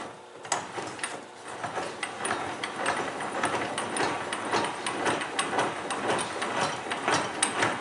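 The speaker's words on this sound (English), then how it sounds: "So now we're going to crank it back up again and see how that looks when it's cranked back up." A ratcheting crank raises a toe board mockup, sending out a continuous run of rapid, close clicks and grinding mechanical rattles for several seconds with no one talking.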